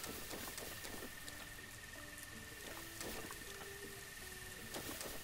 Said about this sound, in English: Obviously, we can't really do any climbing in this rain.